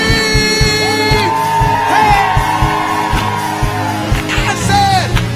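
A church congregation at Compton's Greater Zion Church, during Governor Newsom's inauguration celebration, screams and whoops loudly, many voices overlapping over a steady rhythmic beat of claps or drums.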